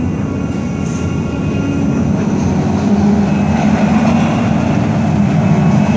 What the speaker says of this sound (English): as this train comes into the station